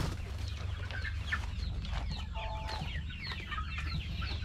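Free-range chickens cluck and call steadily around an open farmyard, several hens overlapping at close range with no one speaking, a constant low rumble underneath.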